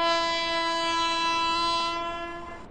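A train horn blares in a 3D Indian train crossing video game, one long steady tonal blast sounding close and loud, holding for over two seconds before cutting off, with no talk over it.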